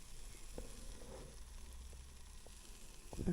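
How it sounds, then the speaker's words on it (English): Food sizzles softly inside an opened Cosori air fryer, a low steady crackle with a few faint clicks and a louder knock at the end. "Everything's sizzling nicely."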